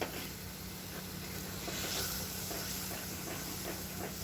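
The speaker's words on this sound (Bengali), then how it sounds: "তো কড়াইতে দিয়ে দিলাম কালো জিরে।" Nigella seeds and green chillies tempering in hot oil in a wok for a Katla fish curry, a steady close hiss and sizzle that holds evenly throughout with no talk.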